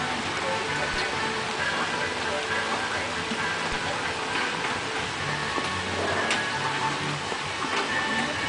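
Steady rain falls outdoors around a group of bearded dragons, a dense even patter with scattered nearby drips, while a voice speaks faintly underneath.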